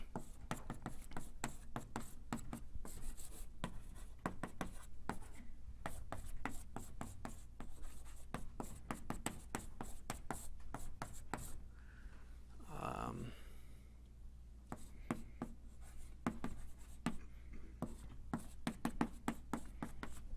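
Chalk taps and scratches on a board during an evolutionary biology lecture, a rapid, irregular run of sharp strokes with a short pause midway, close and fairly loud over a steady room hum.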